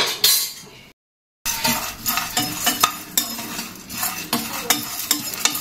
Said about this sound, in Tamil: நானு அதில் ஒன்னா போட்டு வறுத்துடுறேன்.